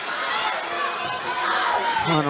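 Boxing crowd at a bout between Demontaze "Juicy" Duncan and Dashaun "Too Sweet" Johns, a dense wall of shouting and coaching voices held steady and close throughout, with no clear breaks.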